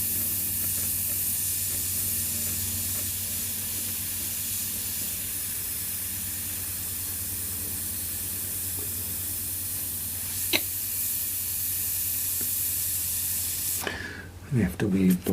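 An airbrush sprays FW black ink in a steady, unbroken hiss lasting over a dozen seconds, close and fairly loud, then breaks into a few short bursts at the end as it stops.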